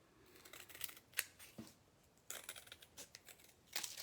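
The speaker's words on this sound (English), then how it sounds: "I'm going to cut that where I marked it where I wanted to cut it" Cutters snip through a plastic Dollar Tree crate in sharp, crisp crunches, several separate cuts with quiet pauses between, close and faint with no voices.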